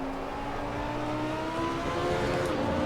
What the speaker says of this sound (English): I'll try and rev it out down straight and I'll show you.